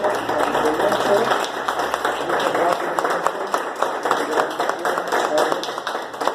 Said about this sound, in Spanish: les pido un aplauso para todos nosotros